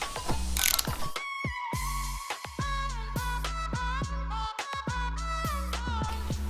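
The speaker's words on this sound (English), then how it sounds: "Now these are torqued up to 14 to 19 foot-pounds." A torque wrench ratchets steadily as it tightens the sump bolts on a turbocharged Mazda MX-5, a close series of rapid mechanical clicks in short bursts with brief pauses between.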